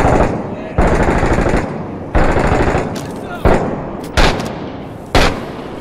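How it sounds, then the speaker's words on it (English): Gunfire in the war shooter Six Days in Fallujah, set in the Second Battle of Fallujah at Jolan Park: several loud, close bursts of automatic fire start abruptly over a steady rumble of combat, with faint game voices in the background. "I'm shooting this guy, he's not dying"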